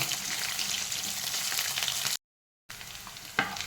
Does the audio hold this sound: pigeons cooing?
no